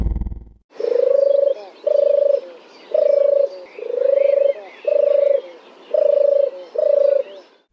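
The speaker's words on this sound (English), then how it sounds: "The sound of a turtle dove singing from an oak tree." Turtle dove singing from an oak tree: seven repeated purring coos in a steady rhythm, close and clear, with faint birdsong in the background and a brief low sound at the start.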